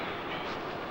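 A train runs on rails, a dense, steady rumble and roar close by with no clear pauses.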